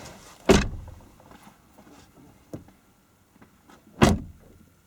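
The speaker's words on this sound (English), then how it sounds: "Pop the door shut for me," A car door slams shut twice with sharp, loud thuds a few seconds apart. A smaller knock falls between them, and quiet faint shuffling fills the gaps.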